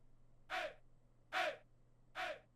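Jersey club chant sample: three short, breathy vocal shouts spaced evenly apart, each a quick punchy syllable over a faint low hum, with no other sound between them.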